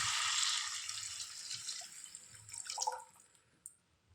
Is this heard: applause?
no